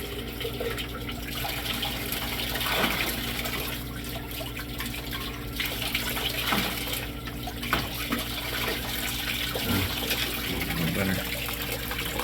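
Water rushes steadily into an Aquasana water filter housing as it fills, a constant close hiss and gush that barely changes, with a few faint knocks near the end.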